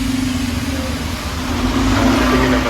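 City buses rumble past a Bristol bus stop, a steady mid-pitched engine drone with a low hum that swells slightly as a bus pulls by, heard nearby without talk.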